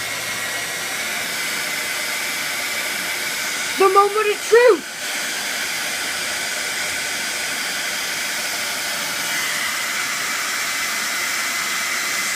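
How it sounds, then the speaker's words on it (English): A hair dryer blows steadily on a fidget spinner, a constant broad airy roar throughout, with a brief voice speaking over it partway through. "I'm gonna turn on the hair dryer right now"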